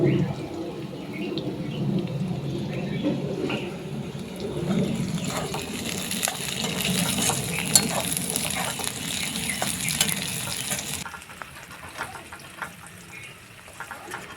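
Sliced onion and slit green chillies fry in a pan with a steady, fairly loud sizzle, with brief clinks and stirring on top, dropping to a quieter crackle near the end.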